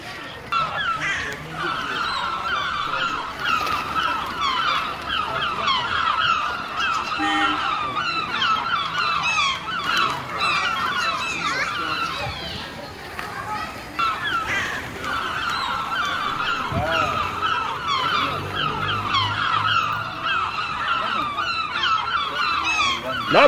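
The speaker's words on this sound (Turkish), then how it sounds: "Etrafımız martılar sardı." A large flock of seagulls calls continuously, loud overlapping cries and squawks filling the air nearby for the whole stretch.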